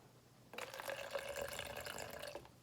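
A small amount of water is poured into clay slip for air-dry clay, running in a steady trickle for about two seconds after a brief quiet start, close and clear with no voices.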